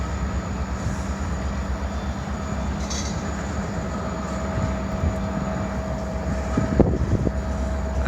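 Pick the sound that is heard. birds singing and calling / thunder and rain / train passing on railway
train passing on railway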